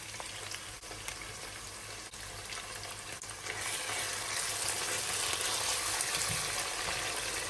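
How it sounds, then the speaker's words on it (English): Thick-sliced onions fry in hot olive oil in a pot, giving a steady, close, crackling sizzle that grows a little louder partway through, with no talking. "I'll then add my largely sliced onions and I'll go ahead and fry it for about 2 minutes or until it is caramelized"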